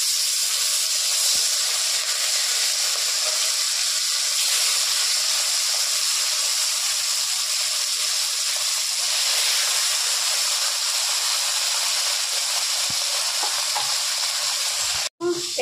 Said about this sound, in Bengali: আর এখন মাছের ঝোলটা বসিয়ে দেওয়া হবে